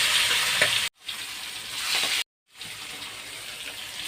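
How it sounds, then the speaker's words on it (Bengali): Hot mustard oil sizzles and crackles steadily as hilsa fish pieces fry lightly, with two brief silent breaks between bursts. "তেল গরম হয়েছে এখন আমি মাছগুলো দিয়ে এটি টুকুট করে হালকা ভেজে নেব"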